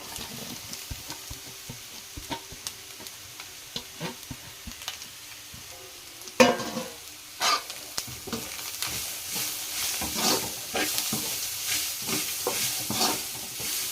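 Grated beetroot sautéing in a pan gives a soft, ongoing sizzle broken by scraping stirs and a sharper burst of hissing midway, louder and busier toward the end, with no talking.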